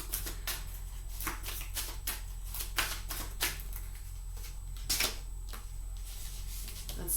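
Tarot cards being shuffled by hand, a run of crisp riffling bursts and soft slides repeating at an uneven pace, close and fairly quiet over a steady low background hum.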